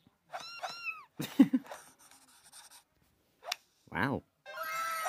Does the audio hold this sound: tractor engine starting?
no